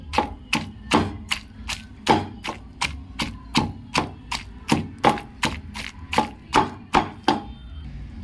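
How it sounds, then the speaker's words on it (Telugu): Pieces of ivy gourd and tomato are pounded in a stone mortar, about seventeen steady, thudding strikes in an even rhythm, close and clear with no talking. "దొండకాయ ముక్కలు కూడా వేసుకొని నీట్గా అయితే ఇలా దంచుకోండి"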